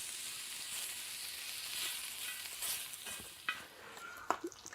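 Five pieces of thick-cut chopped bacon frying on a discada plow disc, a soft steady sizzle heard up close, with a few sharp spatula scrapes and clicks near the end.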